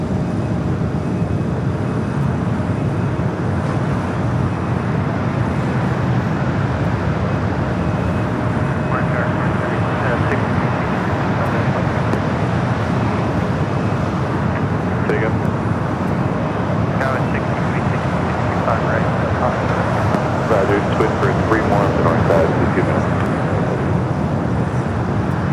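A Southwest Boeing 737 MAX 8 arrives at LAX from Baltimore, its engines a steady, moderate jet rumble that runs under continuous talking for the whole stretch.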